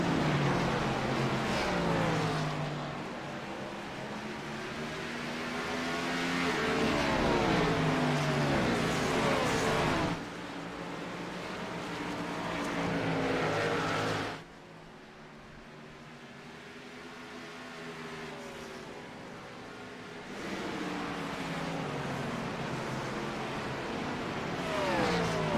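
A pack of race cars on track during stage one of a GrassRoots 200 sim race, their engines rising and falling in pitch as they accelerate, with abrupt cuts and shifts in loudness between sections.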